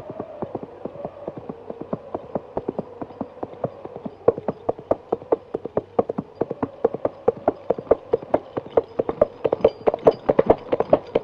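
Coconut halves are clopped together to imitate horse hooves in a Monty Python comedy film scene, giving a steady, brisk trotting rhythm of sharp hollow knocks heard close and alone.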